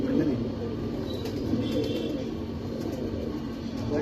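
Rooftop pigeons, black and white birds, cooing in a low steady murmur beneath constant broadband background noise, with no clear voices.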